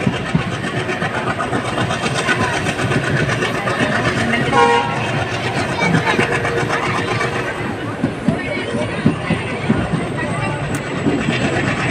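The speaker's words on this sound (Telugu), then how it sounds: "ట్రైన్ వెళ్ళిపోదంతా" The Tungabhadra Express rumbles past near the Tungabhadra river crossing, a loud continuous engine and wagon roar with a brief horn blast midway, while people talk over it.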